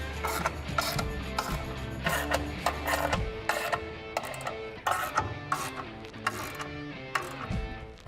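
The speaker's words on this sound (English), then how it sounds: "then fully tighten down your 13mm nuts" A ratchet wrench tightening 13mm nuts on a retractable bed step fitted to a 2007–2013 Chevy Silverado or GMC truck: rapid, close metallic ratchet clicks in repeated bursts, with clanks in between.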